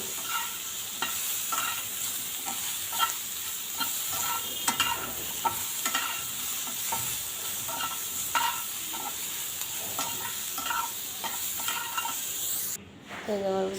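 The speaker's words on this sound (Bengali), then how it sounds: "এই যে হলুদ আর লবণ দিয়ে পটলগুলো ভেজে নিতেছি" Pointed gourd (potol) frying in oil with turmeric and salt, a steady close sizzle running throughout, with repeated stirring scrapes and light clinks of a utensil against the pan.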